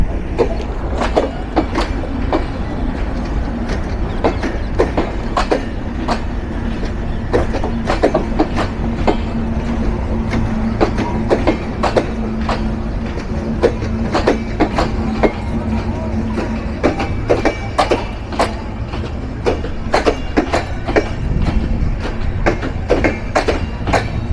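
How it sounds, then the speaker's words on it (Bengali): Ekota Express (train 705 Up) pulls out of Natore railway station bound for Panchagarh, a steady loud rumble with rhythmic wheel clicks over rail joints throughout, faint voices mixed beneath. "নাটোর রেলওয়ে স্টেশনে 5 মিনিট যাত্রা বিরতি দিয়ে ছেড়ে যাচ্ছে উত্তরের সীমান্তবর্তী জেলা পঞ্চগড়ের উদ্দেশ্যে ট্রেন নাম্বার 705 আপ একতা এক্সপ্রেস"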